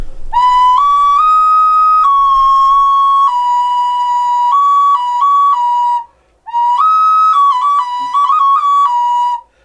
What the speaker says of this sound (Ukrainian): У нас є такі от свисточки. От вони будуть такі. Вони свистять?